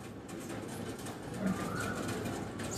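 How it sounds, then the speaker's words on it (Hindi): A pigeon coos softly in the background over a steady hiss of ambient noise, with a faint low murmur mid-way and no talking. "कबूतर के गुनगुनाने की आवाज"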